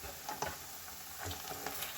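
Mushrooms and golden onions sizzle in a frying pan, a close steady crackle with a few soft stirring taps.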